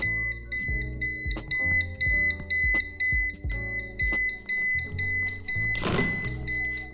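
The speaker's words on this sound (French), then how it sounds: "Le congélateur n'arrête pas de biper." A chest freezer's steady electronic alarm keeps sounding over repeated low thumps and clatter, with one louder burst of noise near the end.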